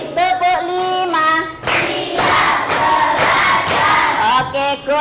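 A class of students performs a cued unison clapping routine, a sustained stretch of loud, rhythmic group claps between a leader's chanted calls and the class's voices.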